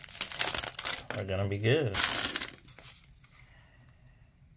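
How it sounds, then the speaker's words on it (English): Foil wrapper of a 2022 Topps Series One baseball card pack crinkles and tears open up close, with a person talking during and after the handling. "so I'll rip this pack open"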